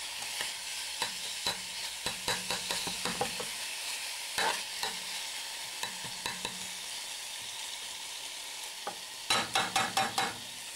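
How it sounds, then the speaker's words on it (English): Pineapple cake batter being stirred in a bowl by hand, a scraping, swishing texture with bursts of quick knocking strokes against the bowl, close and steady, no voices. "Just stir that in nicely"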